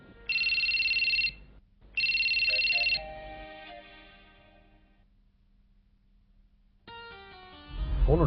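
A phone rings in two loud electronic bursts, then a short musical tone sequence fades out; after a quiet pause, another tone and a rumbling noise start.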